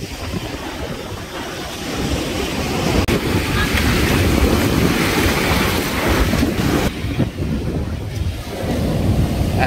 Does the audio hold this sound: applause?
no